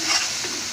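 Spice paste for biryani is stir-fried in hot oil, a steady close sizzle with soft scraping stirs running through the short stretch.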